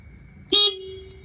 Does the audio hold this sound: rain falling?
no